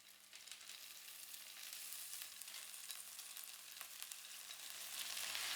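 Corn kernels added to a sauté for corn soup sizzle and crackle in the hot pan, a bright continuous hiss with popping spatter that swells louder toward the end, with no talking.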